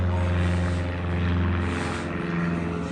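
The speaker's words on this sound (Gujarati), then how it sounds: "જો હેલિકોપ્ટર જાય" Droning helicopter engine with a low, steady rotor hum throughout, fairly loud and continuous as it passes.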